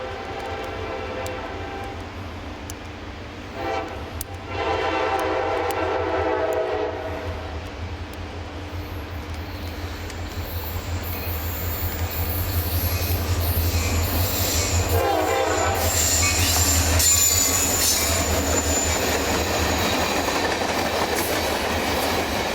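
Train 0738 passing through an interlocking in Central Florida: a sustained rumble with squealing wheels and horn blasts builds louder toward the end, close by, with no voices.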